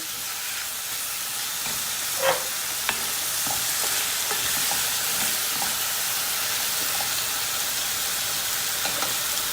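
Tomatoes and peppers sizzle and hiss in a hot pan, with a few scrapes and clicks of stirring over the steady frying noise.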